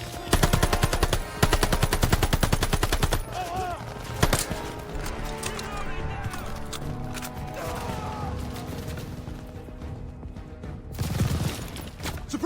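A half-track's machine gun in the war shooter Call of Duty Vanguard fires loud, rapid bursts up front. Two long volleys give way to a steady din of distant gunfire, clanking and shouted voices across the battlefield.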